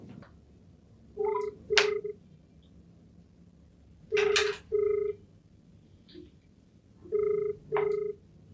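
A telephone ringing in repeated double-ring bursts, three pairs spaced a few seconds apart, clear and moderately loud over a quiet background.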